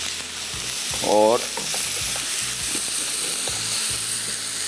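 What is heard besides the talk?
minced meat frying in a pan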